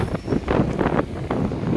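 Strong wind gusts buffet the microphone on a seaside walk near a castle on the Black Sea coast, a continuous rumbling roar that swells and dips, loud and close, with no talking.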